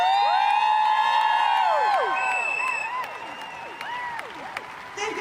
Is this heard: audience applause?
yes